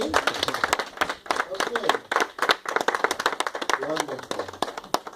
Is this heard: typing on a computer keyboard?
no